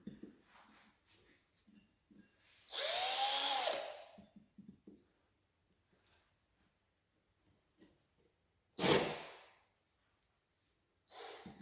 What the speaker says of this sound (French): ce petit trou, je vais même venir l'élargir avec une scie cloche pour faciliter le remplissage